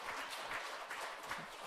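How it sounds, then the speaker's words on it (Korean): A church congregation applauds together, a dense, even patter of many hands clapping at moderate distance, steady and continuous without voices standing out. "우리 다시 한번 인사할 때 큰 박수로 축하하겠습니다"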